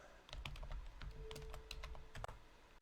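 Rapid typing on a computer keyboard during an online card game session, with quick irregular clusters of close, crisp key clicks and no talk.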